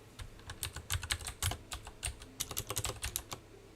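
Fingers type on a computer keyboard in quick, uneven bursts of crisp clicking key presses, close and moderately quiet, with no voices.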